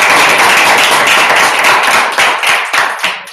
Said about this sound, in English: So hopefully everyone else will give you a round of applause.